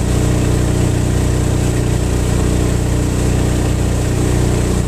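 A stock boat engine runs on the Skagit River, roaring loud and steady from start to finish with a constant drone and no pauses.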